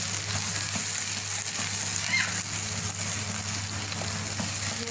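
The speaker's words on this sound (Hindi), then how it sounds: "घी हमारा गर्म हो गया। तो अब प्याज का पेस्ट इसे 8 से 10 मिनट अच्छी तरह से हम इसमें पकाएंगे।" Onion paste frying in hot ghee in a kadai, a steady close sizzle that holds evenly throughout with no voices.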